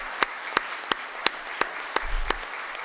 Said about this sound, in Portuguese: Eu gostaria de pedir uma salva de palmas para todos os homenageados, seus familiares, a todos que estiveram aqui.